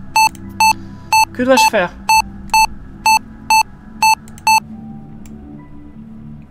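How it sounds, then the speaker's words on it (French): An alarm in the ReEntry space flight simulator video game beeps in a steady, evenly spaced series of about ten sharp tones, while someone briefly speaks French partway through. "Alarme, alarme, alarme."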